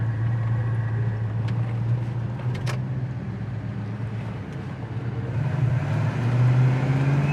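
A 1972 Chevy Nova pulls away, its engine drone steady and rising slightly as it eases forward, fairly close and continuous with no talk.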